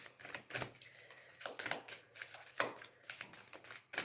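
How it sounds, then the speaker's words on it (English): Slippery tarot cards are shuffled by hand, giving irregular soft clicking and riffling bursts throughout, faint and close, with no talk over them. "They're so slippery. Some cards are so hard to shuffle up."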